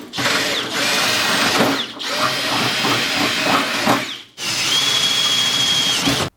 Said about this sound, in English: now you're going to grab your drill, and you need to use a 25/64 drill to finish the holes